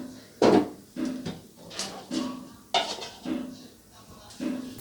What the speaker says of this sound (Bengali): এবারে আবারও ঢাকা দিয়ে রান্নাটা করে নেব।